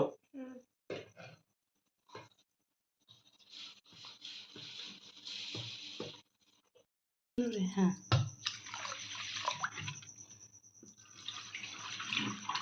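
Rice and lentils are rinsed together in one pot under running water, with intermittent splashing and trickling, quieter at first and then a steadier, fuller stream of water toward the end.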